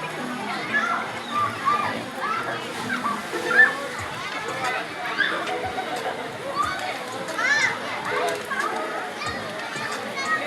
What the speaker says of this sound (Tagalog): sa init ng panahon, dami pa rin ano, naliligo talaga.